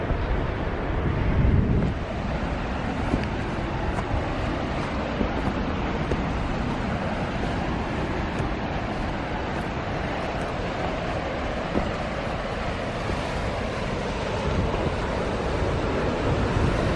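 Sea waves wash and crash steadily along the shore while wind buffets the microphone, forming a continuous loud roar throughout with no voices.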